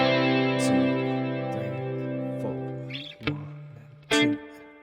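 Electric guitar with effects playing the opening tab line of a song, ringing sustained notes with a few picked accents and brief string noises, close and moderately loud, with no talk.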